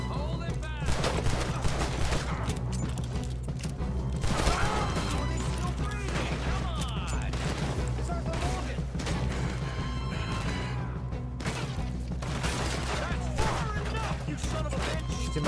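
Rapid gunfire rings out in a Red Dead Redemption 2 shootout, dense bursts of loud shots and impacts crowding one another across the whole stretch, with someone talking intermittently beneath.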